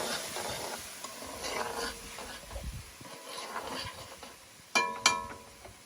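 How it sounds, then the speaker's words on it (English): Tomatoes for saltfish are stirred as they stew in a pot. A soft, steady simmer runs under repeated scraping stirs, close by, with a couple of sharp metallic clinks near the end. "And also give that a stir."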